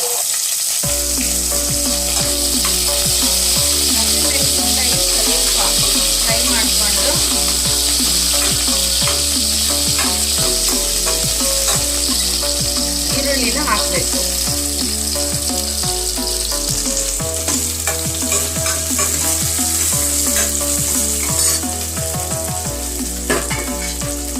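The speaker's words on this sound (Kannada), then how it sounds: "ಸಾಸಿವೆ ಮತ್ತು ಜೀರಿಗೆ ಚಟಪಟ ಅಂದ ತಕ್ಷಣ ಹಸಿಮೆಣಸಿನಕಾಯಿನ ಹಾಕ್ಬೇಕು" Mustard seeds, cumin and green chilies fry in hot oil with a steady, close sizzle and crackle that runs throughout, under continuous background music.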